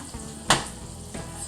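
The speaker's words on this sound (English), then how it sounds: "We'll just put the bread right in there, let it get all toasty." Dinner rolls toast in a hot pan for a budget family meal, a steady low sizzle running throughout with one brief louder clatter near the middle.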